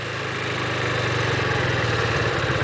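A motorcycle engine droning steadily and building slightly as the rider accelerates through the apex of a turn, close and continuous without speech.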